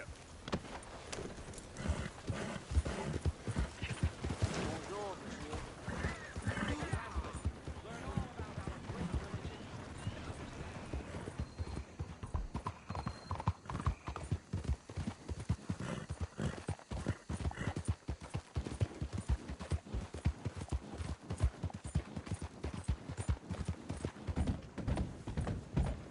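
Horse hooves clip-clopping in the video game Red Dead Redemption, a steady, close, continuous rhythmic trot that runs throughout, with brief voices and a whinny mixed in.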